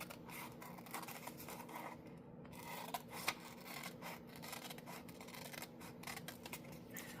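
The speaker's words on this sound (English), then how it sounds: "I'm just trimming these out. I use little scissors because it's easier for me to manage in my hand." Small scissors trim index card paper in quick, quiet snips and rubbing cuts, a soft rapid rhythm close to the microphone with no talking.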